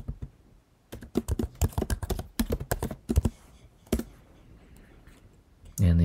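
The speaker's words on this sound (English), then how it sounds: "I need to enter my computer password." A computer password is typed on a Mac keyboard: a quick burst of close key clicks in uneven rhythm, then a single click, under faint room tone.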